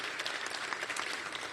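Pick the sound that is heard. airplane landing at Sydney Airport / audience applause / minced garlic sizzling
audience applause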